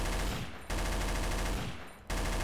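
Sustained automatic gunfire from a weapon in the M9K pack for Garry's Mod, loud dense rapid shots in two long bursts with brief pauses, no talking.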